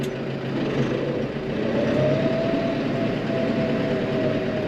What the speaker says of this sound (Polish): No, ciągnik tak fajnie przyspiesza.